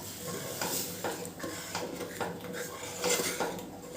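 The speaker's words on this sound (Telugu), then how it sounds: "కొత్తిమీర కూడా వేసుకుందాం. ఒకసారి కలుపుతామండి." Moong dal with fresh coriander being stirred in a pot, a spoon knocking and scraping the metal in an irregular rhythm of clinks, close and fairly soft, with no speech.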